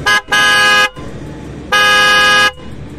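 Two long, loud blasts from an aftermarket trumpet horn fitted inside a Suzuki Access 125 BS6 scooter, sharp and piercing with a brief opening toot, separated by a short pause.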